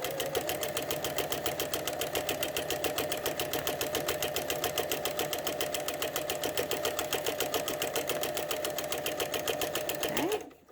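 A sewing machine fitted with a walking foot quilts fabric in a steady, rapid mechanical chatter, running evenly close up for about ten seconds before stopping.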